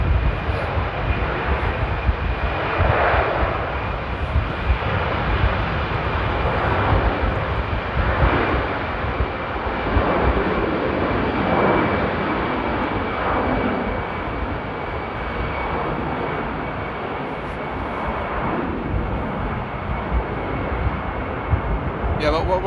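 An EasyJet E190 or A319 airliner at Amsterdam airport during a storm gives a loud, sustained engine roar with gusting wind noise throughout, while a person talks over it.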